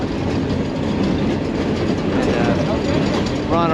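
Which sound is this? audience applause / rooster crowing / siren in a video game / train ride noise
train ride noise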